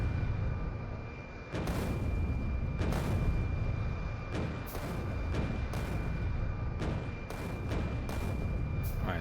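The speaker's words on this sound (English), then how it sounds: "Cannon." Cannon fire in the video game Factorio during point-defense testing, a series of sharp, heavy booms at irregular intervals, around eight or nine shots over a continuous low rumbling background.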